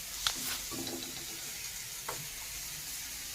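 Mustard seeds crackle and sizzle in hot mustard oil in a wok: a faint, steady frying hiss with a few scattered sharp pops.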